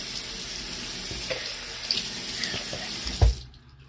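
Tap water runs steadily into a bathroom sink while someone rinses their face, with small splashes and a louder splash near the end before the flow cuts off abruptly.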